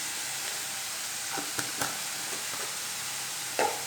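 Red chili powder frying in a pan, a soft, close sizzle with a few short stirring scrapes and taps, fairly quiet and without talk.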